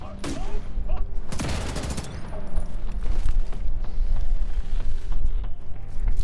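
Gunfire from The Division 2 video game: a dense burst of rapid shots erupts in the first seconds, then fades into a steady din of combat noise and rumble for the rest.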